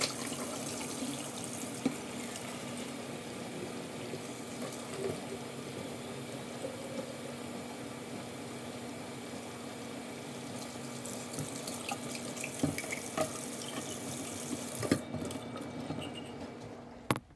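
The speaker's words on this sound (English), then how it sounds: "I dump out any old water and refill his bottle" A kitchen tap runs steadily for about seventeen seconds, refilling a guinea pig's water bottle, with a continuous close hiss of flowing water that shifts slightly near the end as the stream changes.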